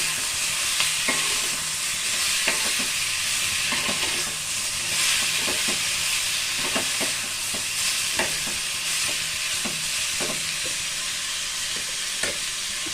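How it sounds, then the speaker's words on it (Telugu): Chopped tomatoes frying in a pan for a pepper curry, a continuous loud sizzle with repeated scraping clicks of a spoon stirring at irregular intervals, close up and without talk. "ఈ టమాటా కోసి ఇది కూడా మంచిగా ఫ్రై చేసామండి."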